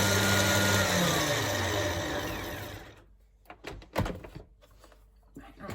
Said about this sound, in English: So I'm going to put these biscuits in the blender